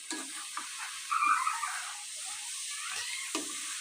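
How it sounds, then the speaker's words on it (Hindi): Potatoes, peas and cabbage sizzle steadily in ghee over low heat, a soft continuous hiss with occasional scrapes and knocks of a stirring spoon. "अब हम इन सब्जियों को 5 से 6 मिनट भूनेंगे"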